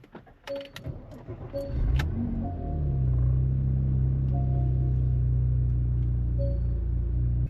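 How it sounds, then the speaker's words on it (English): Porsche Macan engine cold start: some light clicks and jangling, then the starter catches and the engine fires with a loud surge, settling into a steady, deep idle rumble close by. "So let's start off by doing a cold start."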